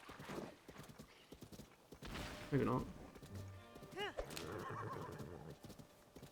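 A small horse in Zelda: Tears of the Kingdom clip-clops along and lets out a clear whinny, with people talking over the game sounds.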